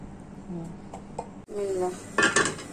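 A karahi (wok) set down on a home kitchen stove, giving a few metallic clanks and scrapes with cookware clatter, close and moderately loud with a quiet voice nearby.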